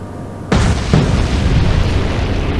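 A torpedo detonates against the German submarine U-179 in the Atlantic Fleet naval game: a sudden loud boom, then a second blast moments later, then a heavy rumbling roar that lingers.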